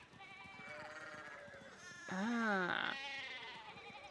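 A sheep bleats in the medieval video game Pentiment, one wavering, nasal cry in the middle of soft background music, with a brief voice and another faint bleat nearby.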